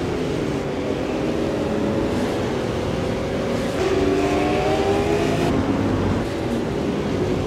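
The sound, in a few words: super late model race cars racing on track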